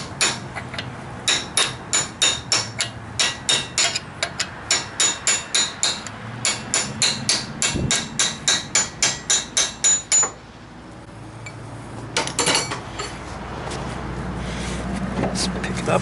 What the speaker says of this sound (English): take your hammer and a punch, and then just drive the CV axle out of the hub.